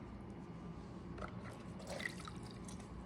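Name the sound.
sponge with water dripping, pottery surface work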